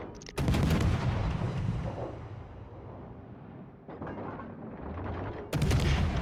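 Battleship guns fire high-explosive shells in a naval combat video game, heavy booming salvos with long rumbling decay, three big blasts spaced a couple of seconds apart, with no talk.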